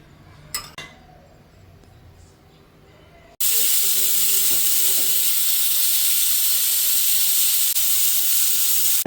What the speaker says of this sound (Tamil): நம்மளோட சூப்பு 8 விசில் வந்தாச்சு. எப்படி கொதிக்குது பாருங்க.